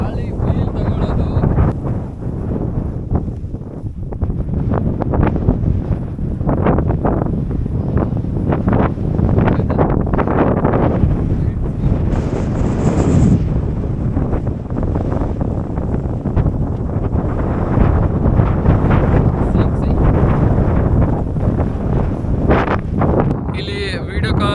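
Strong wind blowing at Bolumalai fort, a loud continuous roar buffeting the microphone throughout with gusty fluctuations.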